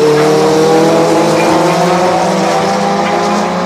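A red Seat race car drives through a corner at Oulton Park during a touring car race, its loud engine droning steadily and close for the whole stretch, with faint tyre noise beneath.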